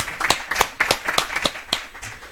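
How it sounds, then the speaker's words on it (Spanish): Sparse applause from a small lecture audience, a handful of distinct sharp claps in an uneven rhythm, fairly close, with no voices over it. "Y un aplauso, ¿no?"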